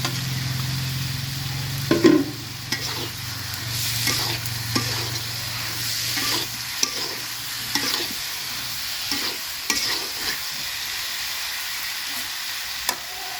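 Cauliflower florets hit hot spiced oil in a pan for a Katla fish and cauliflower curry, giving a loud, steady sizzle broken by repeated scraping stirs, close up and with no talk.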